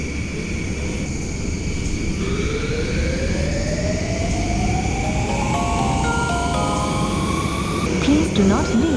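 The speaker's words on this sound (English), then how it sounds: "Doors are closing." A Yishun LRT train in the OpenBVE simulator game closes its doors and pulls away, with a rising electric motor whine climbing steadily over a rumbling running noise, ending with a brief clunk.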